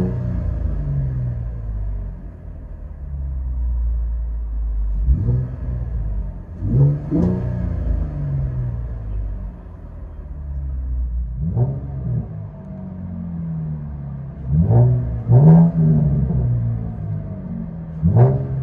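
Chevy Camaro with a 3.6L V6 and straight-pipe exhaust, heard from inside the cabin: a low rumbling idle broken by several sharp rev blips, with a cluster of quick revs near the end.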